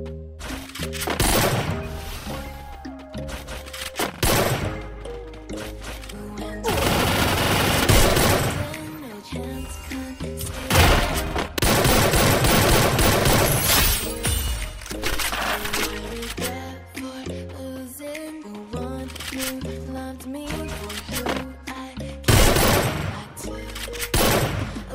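Rapid bursts of automatic gunfire ring out in the Free Fire mobile shooter, loud, repeated and clustered in dense volleys, with tonal game sounds running beneath them.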